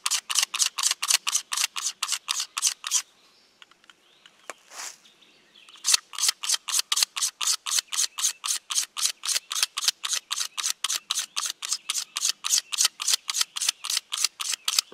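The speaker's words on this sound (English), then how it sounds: "I'm just scraping that off." Rivercane arrow shaft being scraped with a blade, a long series of quick, evenly spaced rasping strokes up close, briefly pausing midway before resuming at the same steady rhythm.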